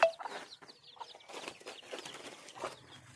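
Chickens kept on a village house roof cluck in short, scattered bursts, fairly close and moderately loud against a quiet background, with a brief sharp sound at the start.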